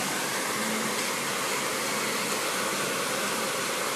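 A handheld blow dryer roars steadily at close range during a blow-dry styling session, a continuous broadband airflow with no pauses and no talk.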